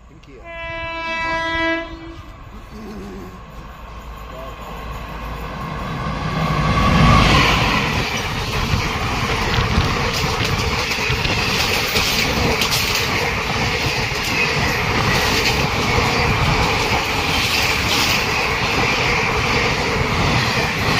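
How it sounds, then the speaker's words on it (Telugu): The Pinakini Express, an ICF passenger train from Chennai to Vijayawada, blares its horn in a long multi-tone blast, then thunders through the station at about 110 km/h in a loud, sustained rush of wheels and rattling coaches. "పినాకిని ఎక్స్ప్రెస్ చెన్నై టు విజయవాడ వెళ్తుంది. ఐసీఎఫ్ ట్రైన్ కాబట్టి 110లో వెళ్తుంది."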